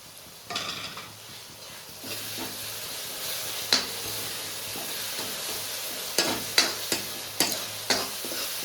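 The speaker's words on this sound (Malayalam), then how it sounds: "പുളിവെള്ളം ഒരു കുറച്ചുകൂടി നമുക്ക് ഒഴിച്ചു കൊടുത്തേക്കാം കേട്ടോ." Tamarind water splashed into a pan of frying whole chicken, giving a steady close sizzle and hiss with occasional sharp spatters and clinks of a utensil against the pan.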